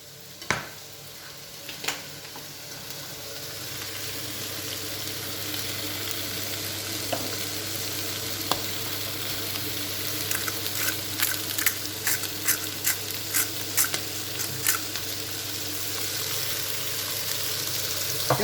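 Aiguillettes seasoned with salt and pepper fry steadily in a pan, giving a continuous close sizzle with scattered pops and crackles that grow busier toward the end.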